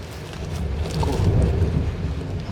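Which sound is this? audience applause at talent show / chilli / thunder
thunder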